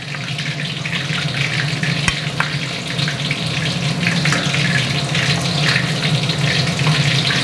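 Snakehead fish deep frying in hot oil, a loud, continuous bubbling sizzle with crackles and pops, close up and steady throughout.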